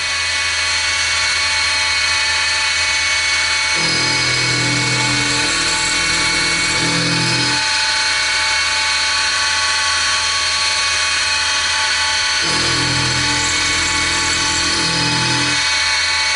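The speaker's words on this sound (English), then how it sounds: "4-flute end mill, 3/16. So I'm thinking about 15 or 20 thousandths per pass. And we're just going into the slot." A mini mill cuts a slot with a 4-flute 3/16-inch end mill, taking light passes. A steady machine whine runs throughout, and two louder bursts of grinding cutter noise stand out as the tool engages the metal.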